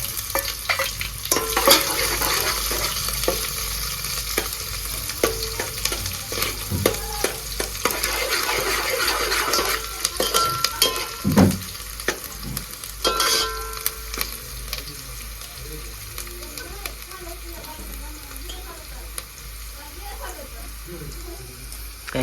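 Chopped onion sizzles steadily in a hot pan with a constant frying hiss and occasional stirring scrapes, while voices murmur faintly in the background.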